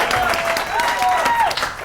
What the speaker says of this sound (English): Let's have a little applause for Jim Carlson.